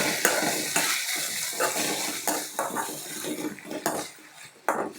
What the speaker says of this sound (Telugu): కొంచెం జీలకర్ర, ఇవి మంచిగా ఆయిల్లో చక్కగా ఫ్రై అవ్వాలి.